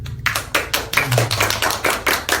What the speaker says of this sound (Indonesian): Tepuk tangan dong untuk pemerintah.